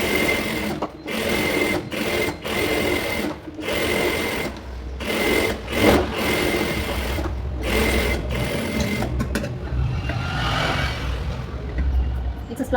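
A sewing machine stitches the lining onto a blouse, its motor running in long steady bursts broken by short pauses, close and loud, with occasional talk over it.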